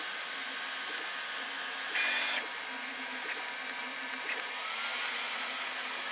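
A Sovol SV08 3D printer runs a fast print, its motors producing a steady whirring drone with brief higher-pitched whines and small ticks as the head moves quickly, heard fairly close in a quiet room.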